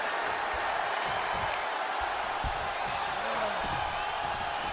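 A simulated arena crowd in a wrestling video game roars with a steady, dense cheer, a continuous wash of noise with scattered thuds underneath.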